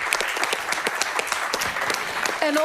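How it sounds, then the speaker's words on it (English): An audience at a climate event applauds, dense continuous clapping at steady loudness throughout, with a brief voice at the very end. "Can we have some applause?"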